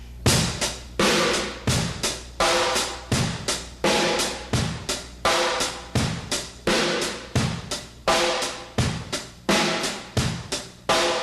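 A drum kit plays a funky beat that alternates between two different tones, with sharp, loud hits in a quick, steady groove and no talking.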